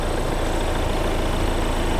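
Audi Q5 35 TDI Quattro diesel engine idling with the hood open during a used-car inspection, giving a steady, even, close-up rumble with no talk.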